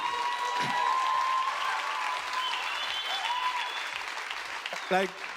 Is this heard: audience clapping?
yes